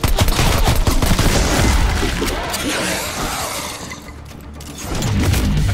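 Sustained gunfire from the zombie shooter game Die Machine, a loud dense barrage of shots with crashing impacts that eases slightly midway before swelling again.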